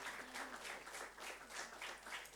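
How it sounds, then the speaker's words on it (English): Applause from an audience for the VLSI design prize winners at an institute-level startup hackathon competition: a steady wash of many hands clapping with gently rising and falling swells, filling the whole stretch. "Give them a big round of applause."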